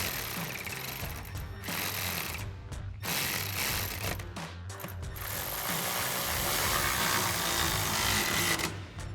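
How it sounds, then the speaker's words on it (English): A ratchet with a 10mm socket tightens bolts under a 2019-2024 Silverado while fitting power running boards, giving bursts of rapid mechanical clicking with brief pauses between strokes. "grab our 10mm socket on our ratchet and tighten these down"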